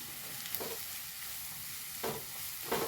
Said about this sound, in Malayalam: കുറച്ച് ഉപ്പിട്ട് കൊടുക്കും ഒന്ന് ഇളക്കി കൊടുക്കും